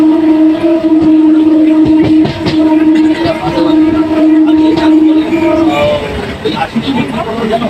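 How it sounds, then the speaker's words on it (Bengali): A train rumbles and hums at close range with a steady low drone as it arrives at a station on the Gede–Kolkata line, while a crowd's chatter and babble fill the background. "আমাদের ট্রেনটি এখন বর্তমানে আরও একটা নতুন স্টেশনে চলে এসেছে"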